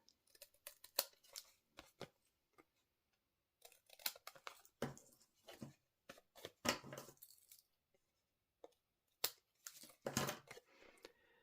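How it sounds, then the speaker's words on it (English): Paper cardstock being trimmed along its sides with scissors, a series of short crisp snips in irregular bursts with quiet gaps between, close and fairly faint. "flip it over and trim off the sides"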